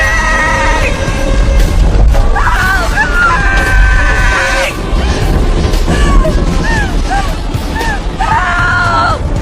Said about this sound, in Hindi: निराश होकर वह चिल्लाने लगी।